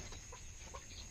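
Native chickens settling to roost at night in a lit farm shed cluck softly and sparsely, faint against a steady background hiss.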